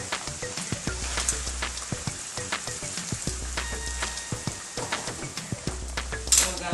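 Broccoli with salt and pepper crackles as it sautés in a pan, with frequent scraping stirs and clicks over a continuous soft sizzle, heard up close.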